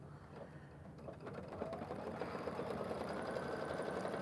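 A computerized embroidery machine stitches an outline around a mug rug clamped in its hoop, a steady close mechanical whir with rapid needle ticking that grows slightly louder partway through.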